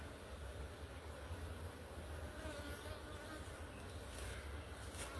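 Bees swarm around a beekeeper in a protective cloak, making a dense, steady buzzing hum that stays fairly faint and continuous throughout, with no talking.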